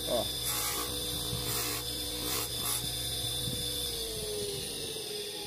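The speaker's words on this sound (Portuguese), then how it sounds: "Para segurança, vou tirar a rebarba de novo um pouquinho aqui, ó." Small file rasping the burr off the freshly sharpened jaws of a pair of pliers, with a few quick scraping strokes near the start followed by quieter rubbing, close and fairly faint.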